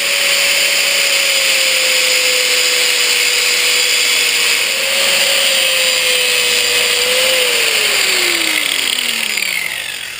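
A loud power tool with a high steady whine grinds and cuts down wheel adapter bolts on a Land Rover Discovery 1, close and continuous, its pitch sagging near the end as it bogs under load and slows.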